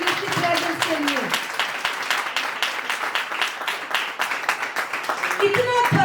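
A worship congregation claps hands in a lively, uneven burst of applause that runs throughout, with a voice speaking over it at moments.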